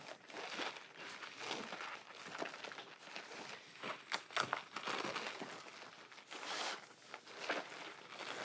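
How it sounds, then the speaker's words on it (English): A plastic bag inside a monopod carrying bag is handled up close, with continuous crinkling and rustling in irregular bursts. "Plastic bag inside."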